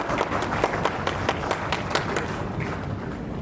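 An audience applauds at a Bigg Boss Marathi season 6 event, a dense, even crowd of claps with sharp individual hand slaps, sustained throughout and easing slightly toward the end.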